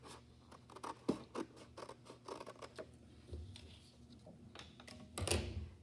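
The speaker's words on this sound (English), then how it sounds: "I'm going to cut it just right up to where I have my oil pastels" Scissors cut paper close to oil pastel coloring on a pumpkin artwork, a series of close, crisp snips and rustles in an uneven rhythm, quiet and without speech.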